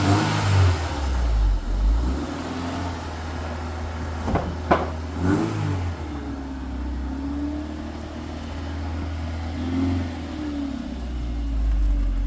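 A Honda Civic freshly wrapped in vinyl rolls out under its own power, the engine humming low and steady with a couple of brief rev swells midway, then settling back to an even idle-like drone; no one speaks.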